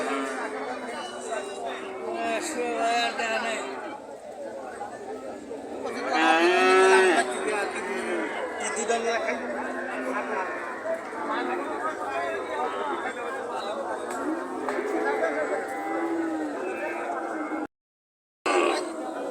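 Cattle moo loudly and repeatedly at the Saturday cow market at Jamalpur Chourasta in Kaliakair, Gazipur, with long calls rising over constant crowd chatter and nearby talking.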